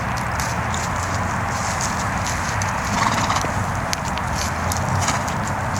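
A four-year-old BLM Mustang mare walks with steady clip-clopping hooves, close by over a constant broadband background, with a brief whinny-like sound and no talking.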